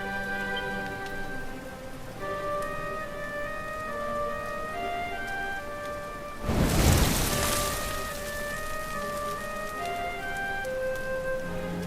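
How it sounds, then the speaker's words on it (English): Steady rain falls in Dragon Quest XI, a constant patter beneath sustained game music, with a louder rushing swell of rain a little past the midpoint. "Looks like the rain's dying down."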